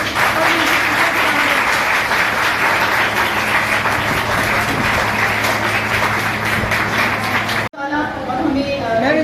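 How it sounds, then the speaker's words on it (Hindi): An audience claps for the organizers at a women's government vocational training institute event. Dense, steady applause runs for about seven and a half seconds, then cuts off sharply, and voices follow. "तो उनके लिए खसूसी तालियां बजाएं"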